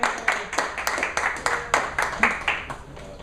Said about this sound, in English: Let's have a round of applause for Vasilina.